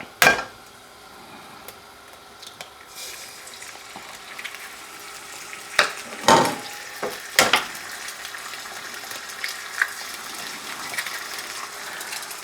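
Eggs fry in a pan with a steady soft sizzle, broken by a few sharper clicks and scrapes of utensils against the pan.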